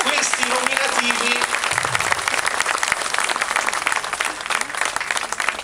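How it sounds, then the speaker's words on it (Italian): Loud, dense applause from an audience honouring award nominees at the Rotonda prize ceremony, sustained clapping that fills the whole stretch, with a voice briefly audible beneath it near the start. "Questi meritano un applauso"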